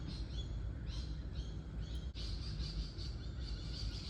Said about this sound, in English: busy little birds out there,